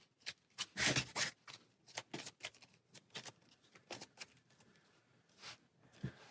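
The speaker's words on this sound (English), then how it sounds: "So then we'll just shuffle." A deck of cards for the Hero Realms deckbuilding game is shuffled by hand at close range in repeated quick riffles and soft slaps, with pauses between bursts.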